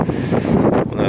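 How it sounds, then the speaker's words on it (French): Strong wind gusting across the Sahara desert, a loud, continuous rush and buffet of air close to the microphone, rising and falling in waves over a short stretch with no voice. "le vent est de plus en plus violent"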